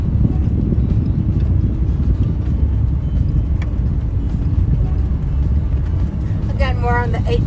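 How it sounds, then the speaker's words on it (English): Cars pass along the 8-mile scenic drive behind Fruita Campground in Capitol Reef National Park, a steady low road rumble with wind, and a brief voice near the end. "Cars coming."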